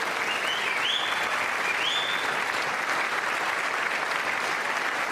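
An audience at a State of the Union address applauds, a steady, even wash of many hands clapping that holds for several seconds without letting up.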